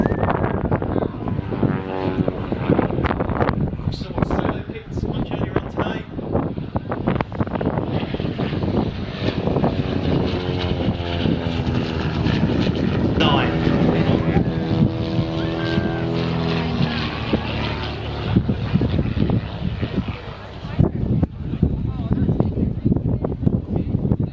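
A tiny Red Bull Pitts aerobatic aircraft, a 1940s design, flies at the RAF Leuchars airshow. Its engine drones steadily with wind buffeting, under continuous narration.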